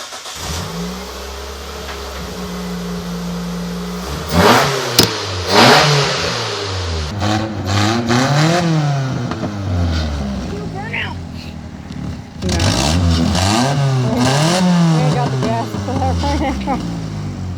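A Mitsubishi car fitted with a replacement engine revs repeatedly, swelling up and falling back in loud, close rises over a steady idle, with someone talking over part of it.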